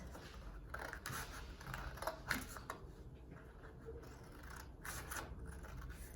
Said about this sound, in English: I'm going to take the scissors and I'm just going to cut the vertical lines.